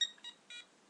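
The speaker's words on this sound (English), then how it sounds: "that is my alarm telling me that I've been ranting for a whole" A timer alarm gives three short electronic beeps in quick succession, clear and moderately loud against near silence.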